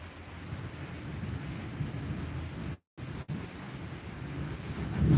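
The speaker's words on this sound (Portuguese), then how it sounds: "E a chuva tá que tá aqui, gente" Heavy rain pours down in a steady, broadband roar with low rumbling that suggests thunder, briefly cut out for a moment before continuing and swelling louder at the end; no one speaks.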